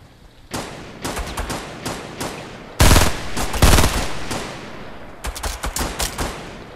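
Bursts of Fortnite gunfire, a cluster of sharp shots followed by two heavier, louder blasts and then a rapid volley, close and loud with no talk.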